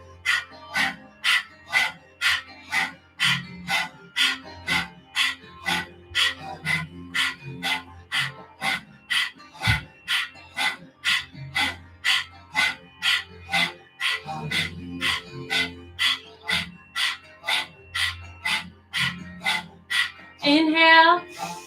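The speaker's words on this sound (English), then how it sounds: "Continue with the breath of the fire, panting like a dog." Rapid breath-of-fire yoga breathing done panting with the tongue out: close, loud, sharply rhythmic breaths at roughly two per second, continuing steadily throughout with no talk.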